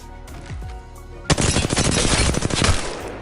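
In the Apex Legends firing range, a video game setting, an automatic weapon fires a loud, rapid sustained burst after a quieter lead-in of handling noises and a few isolated shots.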